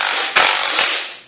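A 3-arm puller working a part off a Vortec 350 engine, giving a steady harsh mechanical grinding hiss with two sharper bursts, loud and close, with no voices.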